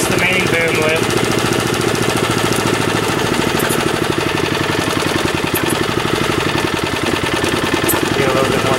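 Niftylift TM34T towable boom man lift with its engine running steadily and loud close by, a rapid knocking mechanical rhythm under faint talk as the throttle is raised.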